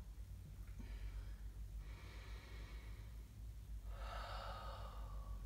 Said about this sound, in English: We're gonna take that moment to breathe in and that moment to breathe out.